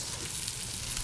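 Mushrooms browning in a hot pan give off a soft, steady sizzle, faint and continuous with no talking over it.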